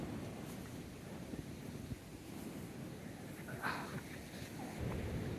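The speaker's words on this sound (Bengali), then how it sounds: "এখান থেকে ঢেউয়ের গর্জনটা অসাধারণ লাগতেছে।" Ocean surf at Cox's Bazar beach makes a faint, continuous low roar, heard from a short distance and mixed with gusty wind buffeting the microphone.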